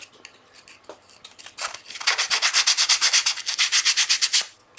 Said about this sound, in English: Sandpaper.